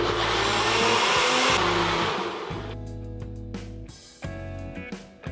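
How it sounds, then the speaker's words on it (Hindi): A kitchen blender whirs loudly as it blends mango pulp for aamras, the motor roaring steadily at first, then cutting in and out in short bursts as it pulses and slows. "और अब ये सारी चीज़ों को वापस से ब्लेंड कर लेना है हमने।"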